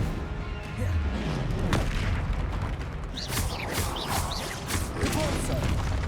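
A Repulso spell is cast during combat in the video game Hogwarts Legacy, producing booming blasts and crashing impacts amid other spell effects, with a voice talking over the action.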